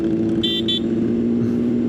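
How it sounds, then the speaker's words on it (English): Two short, high beeps of a motorcycle horn sound in quick succession over the steady close engine hum of a ridden motorcycle on a road. "Honk at the squirrel."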